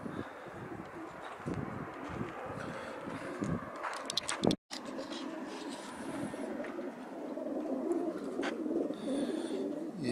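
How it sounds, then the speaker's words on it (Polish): Racing pigeons coo softly before a competition release, with steady cooing and rustling close by outdoors and one brief gap partway through. "Gołębie są napojone."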